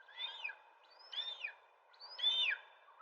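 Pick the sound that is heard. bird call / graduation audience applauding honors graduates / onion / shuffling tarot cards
bird call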